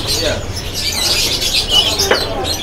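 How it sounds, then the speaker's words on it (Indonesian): Caged male loper canaries at a crowded Pramuka bird market twitter and chirp, a busy layer of high, overlapping calls with steady market noise beneath. "dia juga ready untuk burung kenari ini yang loper jantannya ya"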